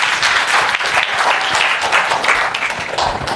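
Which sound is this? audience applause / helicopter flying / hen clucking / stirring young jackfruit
audience applause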